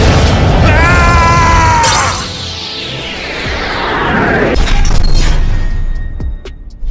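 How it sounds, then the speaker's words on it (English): A booming magic-attack explosion from Dark Magician's Dark Magic Attack in a Yu-Gi-Oh mobile game bursts out after a rising musical tone, then rumbles and crackles away into a fading tail. "Go, Dark Magician! Dark Magic Attack!"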